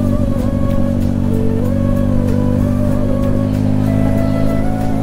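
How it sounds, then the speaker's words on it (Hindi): Loud twin-cylinder motorcycle engine fitted with a full exhaust system, a steady deep rumble holding near and constant while riding, with slight pitch shifts as the throttle varies. "भाई गाड़ी तो आवाज़ तेज करती है, इसमें बहुत होती है, इसमें ना डुअल सिलेंडर है,"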